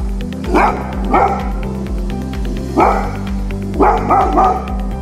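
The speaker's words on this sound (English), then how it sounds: "In our opinion, an American Bulldog has a powerful bark." American Bulldog barking close and loud, deep powerful barks coming in short bursts of one to three, with a steady low hum running underneath.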